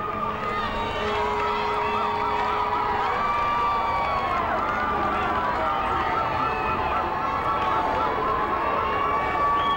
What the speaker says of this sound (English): this crowd is getting pretty excited. Listen to them.